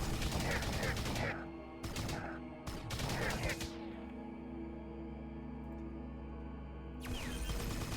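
Gunfire from a gun in the video game Subterrain, set in the mines of Titan: loud bursts of rapid shots in several clusters, separated by a lower steady hum, close and prominent.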